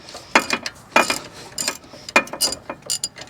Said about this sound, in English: Grandpa's ratchet to the rescue. This is a 1/2-inch drive we rebuilt.